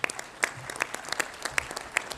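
An election-meeting assembly at a football confederation general assembly applauds a winning candidate, a short burst of dense, steady clapping from a large room with sharp individual claps standing out.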